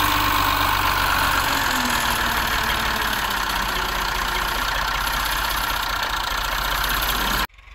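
Tractor engine running steadily while spreading silage on a farm, a continuous loud rumble and hum that cuts off abruptly near the end, no talk.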